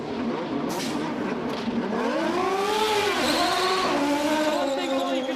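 An Indy race car at the 1994 Indianapolis 500 revs hard as it pulls out of the pits, its engine note sweeping up and down in rising wails over a continuous roar of track noise.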